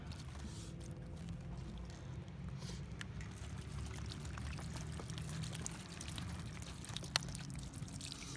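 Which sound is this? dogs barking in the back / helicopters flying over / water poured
water poured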